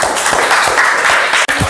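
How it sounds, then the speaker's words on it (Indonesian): A sixth-grade Buddhist religious education class claps together in a classroom, a dense, steady patter of many hands filling the room at close range for about two seconds, with a momentary break just before the end. "tepuk tangan buat kalian"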